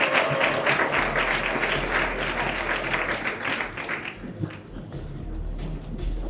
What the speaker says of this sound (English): Let's give them around a warm round of applause.